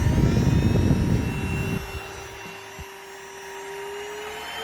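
A Dibea D18 cordless stick vacuum cleaner, motor venting out the top, runs with a loud airy whoosh that drops suddenly to a lower, steady whine with a faint high tone, close and without talking.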